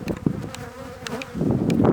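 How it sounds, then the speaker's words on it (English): Honeybees buzz loudly and close during a British hive inspection, a dense, wavering hum with individual bees swelling and passing near, no talking. "Looking at the bees, they look healthy."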